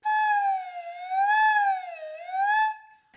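Flute head joint blown on its own, producing one sustained breathy whistle-like tone that slides gently up and down in pitch for nearly three seconds before stopping, close and alone.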